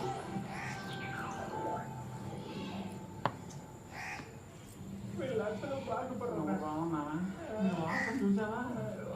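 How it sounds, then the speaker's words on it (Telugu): A crow caws repeatedly at a distance while people talk nearby. "కాకి అరుస్తుంది, కాకి."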